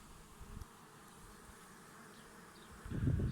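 Honeybees from a swarm, the fourth of the season, crawl into a wooden beehive, giving a steady faint buzzing hum with a louder, denser burst of buzzing near the end.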